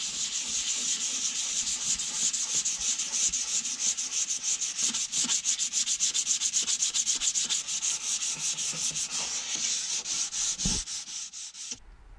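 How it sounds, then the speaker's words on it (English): Steady hand sanding of pine wood during a narrowboat interior fit-out, a continuous close, loud scratchy rubbing with rapid back-and-forth strokes that stops abruptly near the end. "Once I've finished all this sanding"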